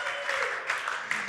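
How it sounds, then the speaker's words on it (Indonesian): An audition audience in Solo claps briefly for a performer, a soft, distant-sounding patter of hands lasting barely over a second. "Tepuk tangan untuk Fasya"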